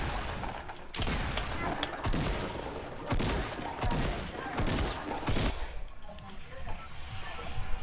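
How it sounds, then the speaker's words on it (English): Gunfire in the video game Fortnite: several loud, sharp bursts of shots crack out in quick succession, separated by short pauses, then fade to quieter game ambience. "I need to shoot one."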